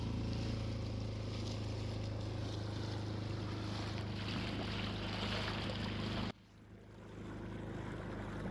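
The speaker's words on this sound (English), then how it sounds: "we have successfully gotten the dinghy running." A dinghy outboard motor drones steadily at close range near a Greek harbour, with wind and water noise over it. The engine note drops sharply near the end, then the drone builds again.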